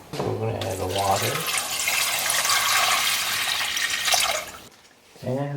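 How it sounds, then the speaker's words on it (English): Water pours steadily into a soup pot holding dried pollock and anchovy for a Korean Jeonju-style bean sprout soup broth, a continuous rushing stream lasting about three seconds, with a voice speaking just before and after. "We're gonna add the water."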